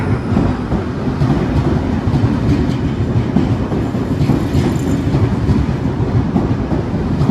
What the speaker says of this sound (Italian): Il treno regionale di Trenitalia, proveniente da Bassano del Grappa e diretto a Venezia Santa Lucia